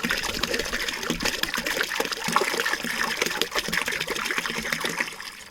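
Water pouring steadily into a 5-gallon container for a hydroponics setup, a continuous close trickling gush that runs without pause, with no talking over it.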